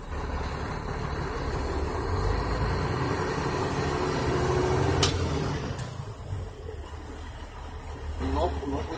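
Truck rolling at about 5 mph during a trailer service brake check at a truck driving school, with a steady low engine rumble throughout, a brief sharp hiss midway, and faint voices in the background.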